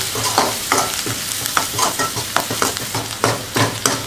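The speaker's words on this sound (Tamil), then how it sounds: "இப்போ எல்லாம் சேர்த்து வதக்கிக்கலாம்." Green chilli, chilli powder and curry masala sauté together in a pan for egg rice, with a steady sizzle broken by repeated close, sharp spatula scrapes and stirs in an uneven rhythm; no one speaks.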